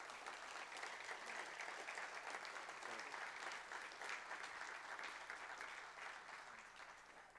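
A room full of people at an academic conference session claps steadily in sustained applause welcoming presenters, gradually tapering off toward the end.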